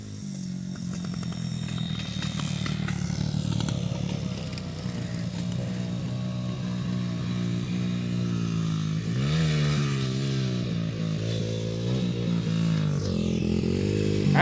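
A dirt bike rides a roped-off country trail, its engine droning steadily loud for the whole stretch, the revs rising and falling as it climbs and shifts, with the pitch sweeping up sharply partway through.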